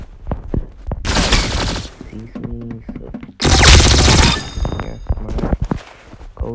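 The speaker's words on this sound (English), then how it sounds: "I prefer this gun over most guns in Arsenal." Bursts of rapid gunfire ring out in the Roblox shooter Arsenal, two loud volleys separated by quieter clicks, clanks and footsteps.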